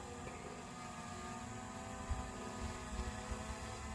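A DJI Air 2S drone climbing over trees in Georgia gives a steady, continuous buzzing whine of rotors that stays at an even level throughout, with faint breezy noise and no talking.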